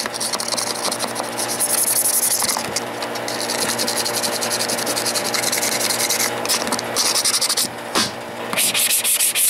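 Steady close-up scratching and rubbing on the surface of a homemade DIY mailbox, a continuous abrasive rasping that swells and dips in short strokes with no talking.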